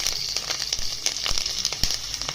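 Cumin seeds, asafoetida and curry leaves hit hot oil in a pan, giving a steady bright sizzle with scattered sharp crackles and pops, close and alone throughout.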